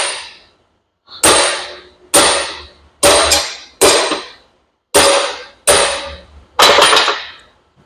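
A wiper seal is tapped into a CASE swing cylinder using a socket, giving eight sharp metallic hammer strikes at an uneven pace, loud and close with brief ringing after each.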